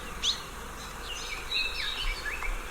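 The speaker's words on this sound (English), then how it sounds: "We're listening to some Hawaiian birds. In the foreground is the most endangered bird in the U.S., this little silver-plumaged Akikiki." Hawaiian forest birds, among them the endangered silver-plumaged Akikiki, sing in the foreground with several short, high chirping phrases over a steady faint background hiss.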